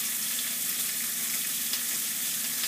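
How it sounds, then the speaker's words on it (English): Bacon frying in a pan, giving a steady, dense sizzle and crackle that fills the whole stretch at close range, with no talking. "For those of you that don't know how to cook this bacon"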